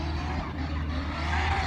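A drifting car at Mondello, engine roaring steadily with a rough, smoky tyre skid noise, loud and continuous for the whole moment.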